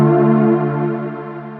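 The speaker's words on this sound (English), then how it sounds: "I found this Nexus pad and it's super nice." A lush Nexus synth pad holds a single sustained chord, warm and full, that slowly fades over a second or so, with no other sounds and no voices.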